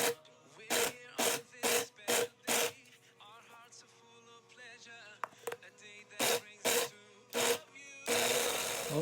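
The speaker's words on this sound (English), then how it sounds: "So first I want to grind this into paste" A kitchen grinder blends a shami kabab mixture into paste in a series of short, loud pulses at a fairly regular rhythm, separated by quieter handling noise, with a longer steady run at the end.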